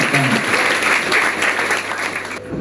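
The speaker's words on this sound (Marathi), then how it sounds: "जोरदार टाळी देऊया" An audience at a girl empowerment program in Kolhapur bursts into loud, sustained applause welcoming Dr. Manisha Bhojkar. The clapping is dense and steady throughout, then eases slightly near the end.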